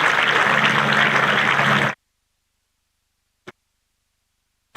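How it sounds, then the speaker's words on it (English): A cricket ground crowd at a Royal London Cup match between Sussex and Gloucestershire applauds batsman Ollie Robinson, a dense wash of clapping for about two seconds that cuts off abruptly into silence, with one brief tick after it. "applause for Ollie Robinson"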